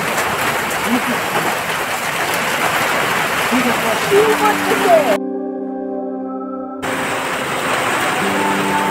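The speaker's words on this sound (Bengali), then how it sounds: "অনেক বৃষ্টি।" Heavy rain at Cherrapunji in Meghalaya, a steady dense hiss of downpour running throughout, with a sustained tonal hum briefly cutting in near the end.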